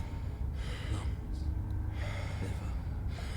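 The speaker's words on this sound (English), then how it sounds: "Again, your eyes shoot open as you gasp for breath." A character in the Slay The Princess game gasps for breath, with several sharp, close breathy gasps and inhales spread across a short stretch over faint background ambience.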